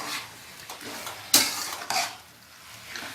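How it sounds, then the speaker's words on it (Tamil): A spoon stirs chicken curry masala in a pan, scraping and sizzling with a few sharp clanks of utensil against metal, close and moderately loud with no voices. "இதோட ஒன்றா சேர்த்து நல்லா கிளறி விடணும்."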